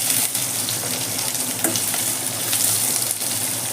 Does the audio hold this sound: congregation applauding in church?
no